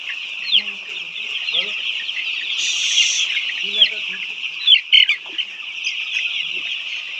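White layer chickens cluck and squawk throughout at a poultry farm, a busy flock close by with overlapping calls and a steady high chatter, a few louder squawks near the end.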